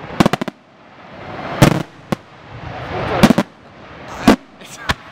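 Large 300 mm firework shells are launched in a rapid series of loud thumping reports, with sharp clustered bangs up front and more spaced booms later, over outdoor crowd ambience.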